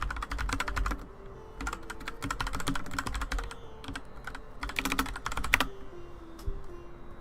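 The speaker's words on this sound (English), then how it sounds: "There's my loud keyboard again." Loud computer keyboard typing, close and continuous, with rapid clacking keystrokes in bursts separated by short pauses.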